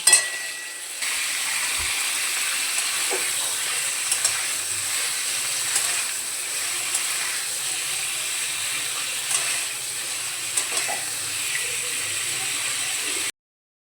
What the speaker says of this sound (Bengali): কড়াইয়ে সাদা তেল দিয়ে পনিরগুলোকে সামান্য সাঁতলে নেব